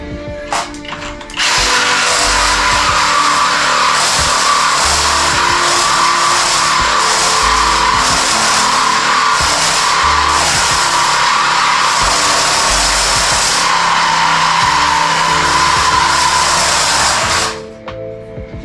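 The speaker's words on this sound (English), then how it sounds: "That sound you hear? That's a leaf spring I welded underneath" A welded leaf spring drags under a lowered Toyota truck while it drives, making a loud, continuous scraping roar with low thumps beneath it. The sound runs steadily for about sixteen seconds, then cuts off sharply.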